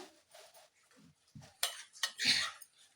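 A metal spoon stirring chili powder into a mixture in a bowl, with sparse clinks and scraping taps that come in short, irregular bursts, close and quiet.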